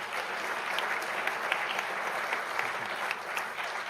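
An audience at a conservation keynote lecture claps steadily for a few seconds, a dense, even wash of applause with no voices.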